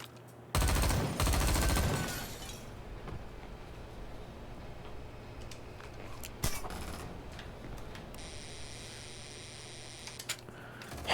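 Gunfire in the video game XIII, a loud burst of rapid shots at the start followed by scattered single shots and clicks over quieter game ambience.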